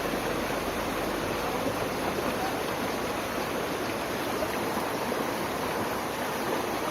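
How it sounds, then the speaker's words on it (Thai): Mae Klang waterfall in Thailand, a steady, dense rush of flowing and falling water that fills the whole clip at an even level with no breaks. "พบเล่นน้ำตก เย็นเย็นเย็นจังเลย"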